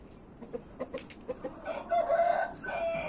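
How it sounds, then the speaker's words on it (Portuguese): A farm flock of chickens clucks in short, soft, scattered calls, then a rooster breaks into a louder, drawn-out crow close by near the end. "Essas galinhas aqui."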